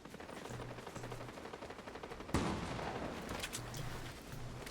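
A video game gun firing with a shotgun-like blast: one sharp, loud report stands out partway through, amid a steady background of game noise and softer pops, with no talking.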